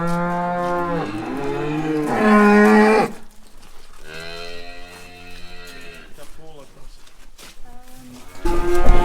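Cattle low loudly in long, drawn-out moos, several calls overlapping and close by, as the herd grazes on long grass in a field on a farm.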